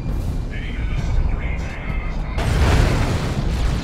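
Rocket run explosions in the real-time strategy game Dawn of War II: Retribution come as a heavy, sustained barrage of booms and blasts, with a commentator talking over them throughout.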